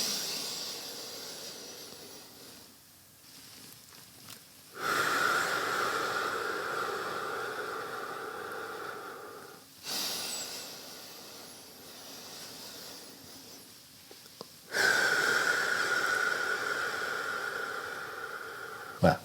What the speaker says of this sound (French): cet exercice 365, 3 fois par jour, 6 respirations par minute pendant 5 minutes